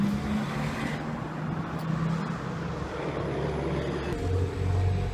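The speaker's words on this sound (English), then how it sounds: "It's very noisy here. I picked a place with a lot of cars." Steady, dense traffic roar from cars passing on a busy street, a continuous loud rumble with engine hum throughout and no clear gaps between vehicles.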